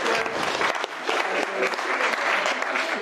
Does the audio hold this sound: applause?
yes